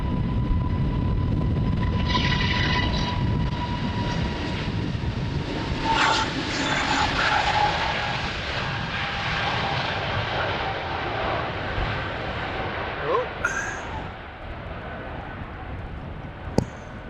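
Embraer airliner departing runway 36L at Amsterdam Schiphol on a windy day, a steady broadband jet roar with a faint engine whine that holds throughout, fairly distant and slowly fading, with wind buffeting the microphone.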